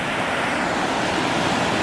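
A waterfall pours into a collecting pool at its base in a sunny valley, producing a loud, continuous, dense rushing roar that fills the whole moment without a break.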